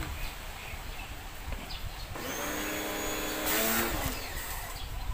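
A compressed-air blower dries a freshly soaped and rinsed Toyota Avanza engine bay; a steady, fairly close hiss starts about two seconds in, swells briefly near the end, then eases back.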